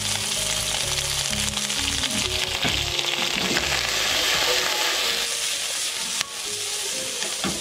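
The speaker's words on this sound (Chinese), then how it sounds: "然后再继续起锅加油，一个人放葱姜蒜爆香。" Scallion, ginger and garlic fry hard in hot oil in a wok, giving a loud, continuous sizzle and hiss mixed with scraping stirs and clatter, close up throughout.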